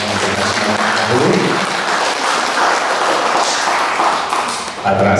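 An audience at an evening Buddhist dharma course claps steadily for several seconds, a dense, even wash of applause that fades briefly near the end before a voice speaks.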